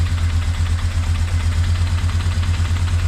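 An engine with a newly installed carburetor idles steadily and loudly up close, a constant low rumble with an even, fast pulsing beat and no voices.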